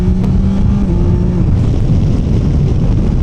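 A 2025 Yamaha Tracer 9 GT motorcycle engine howls loud and close in a continuous roaring drone under wind rush, pitch shifting slightly as it pulls.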